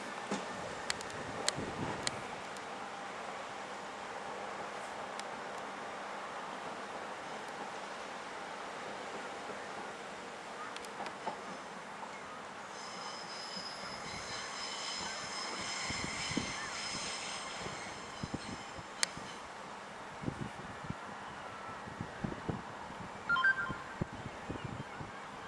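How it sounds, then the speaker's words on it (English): A Southeastern high-speed train pulls out of Ramsgate station bound for London St Pancras, a steady mid-level rumble and rushing hiss with a brief rise in whine midway, no talk over it. "Now the 1307 to London St Pancras Southeastern is just departing"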